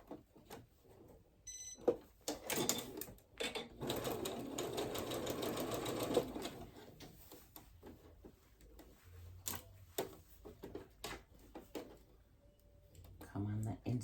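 A sewing machine stitches around braided twist placemat fabric in uneven bursts of quick, close mechanical chatter. Quiet talk and handling noises fill the gaps.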